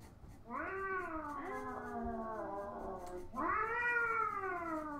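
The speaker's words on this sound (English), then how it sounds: "Sounds like a dying cat or something." Long, drawn-out wailing yowls like a distressed, dying cat, rising and bending in pitch. There are two sustained cries with a brief break between them, loud over a faint background hiss.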